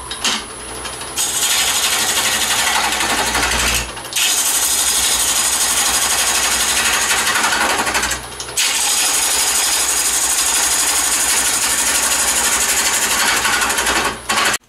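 A woodturning lathe hollows out a wooden piece, the tool scraping with a loud, continuous rasping hiss in long bursts broken by brief pauses as the cut is lifted.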